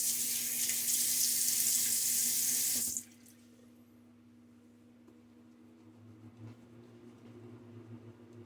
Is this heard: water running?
yes